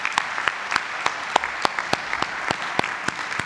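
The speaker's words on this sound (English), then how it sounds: "Give yourself another round of applause." Graduates at a Columbia Business School EMBA recognition ceremony break into a round of applause, steady crowd clapping throughout with a few louder individual claps standing out sharply on top.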